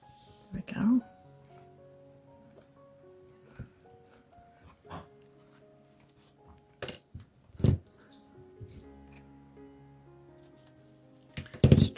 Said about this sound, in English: Just trimming it back so there's not quite so much to try to poke down in there.